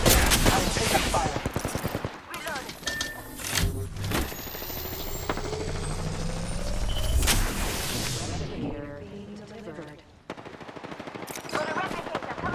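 Rapid automatic gunfire in Apex Legends rattles in dense, loud bursts and sustained volleys, mixed with sharp single shots and mechanical clatter and other game effects throughout.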